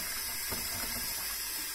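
Kitchen tap in an English home running at full but weak pressure, a steady, close, even hiss of thin water flow throughout, with no talking.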